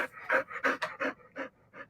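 A dog pants on a hot evening: quick, rhythmic breathy huffs, about ten in two seconds, close and fairly quiet, with no voices.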